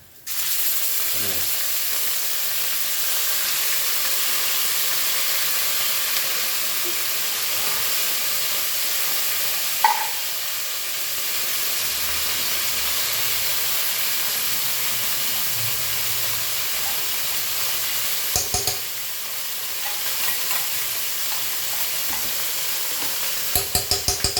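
Food frying and being stirred in a pan for a carpenters' cooking session, a steady close sizzle and hiss running throughout with occasional scraping knocks of the utensil.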